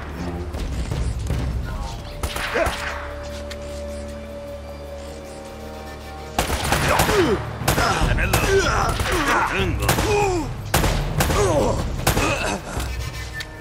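Gunfire from Uncharted: Drake's Fortune, with bursts of shots and thuds crowding the second half over a steady game soundtrack, while voices call out orders around them.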